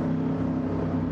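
A Mercedes AMG car engine in the racing game Gran Turismo 7 drones with a steady, deep, loud hum throughout a short stretch, holding an even pitch without clear revving.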